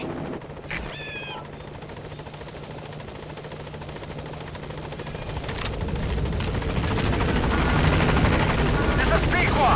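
In-game helicopter from Metal Gear Solid V arriving at a landing zone, its rotor thump and engine whine growing steadily louder and closer, with a brief radio voice and effects early on.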